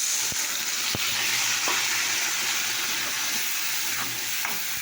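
Spices and masala with chilli powder, turmeric and salt being fried and stirred in a pan, a steady close sizzle with a few soft scrapes of the spoon, no talking.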